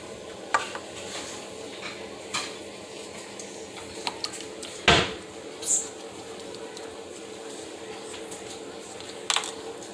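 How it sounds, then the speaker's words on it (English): Flan ingredients with pure vanilla are stirred together in a bowl, giving soft swishing with a few sharp clinks and one louder scrape against the bowl over a quiet, steady background. "you're going to mix this up until it's all combined"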